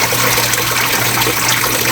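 Water pours steadily into a small homemade tilapia tank with a water filter, a loud, continuous close gush and splash with no pauses.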